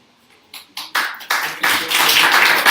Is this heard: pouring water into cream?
no